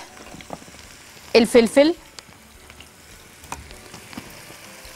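Onion frying in a heated wok, with salt and spices added: a broadband sizzle holds steady under the whole stretch, and a short burst of speech cuts in near the middle.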